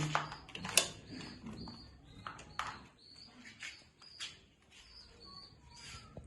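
Pigeons in a loft with newly hatched chicks make faint, scattered coos and chirps, along with small rustles and a few sharper clicks in a quiet space.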